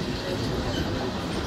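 A train running on the approach to Raxaul, a few kilometres out, with a steady loud rumble of wheels and carriages heard from inside, continuous and close with no pause.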